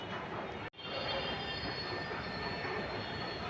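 Metro train wheels squeal continuously at a Lucknow metro station, a sustained high screech with rail rumble, briefly dropping out once, with no voices.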